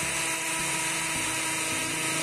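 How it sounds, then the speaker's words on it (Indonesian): A Ryu RCI20V cordless impact drill bores into concrete, giving a loud, steady whine with a grinding rattle and a few rhythmic load pulses throughout. "untuk tes pengeboran di beton ini juga cukup oke, tidak ada masalah ya untuk bor Ryu ini"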